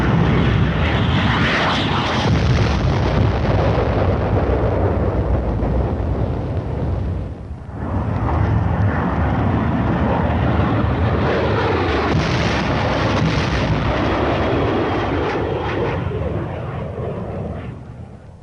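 Military aircraft drop napalm over dug-in enemy positions, a loud, continuous roar of engines and fiery rumbling that dips briefly midway and then builds again. It sounds like archival war footage.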